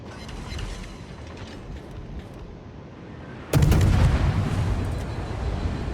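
Naval guns in a World of Warships style game with the destroyer Fubuki, one loud broadband salvo erupting partway through a low rumbling ambience and rolling on afterward, near and heavy.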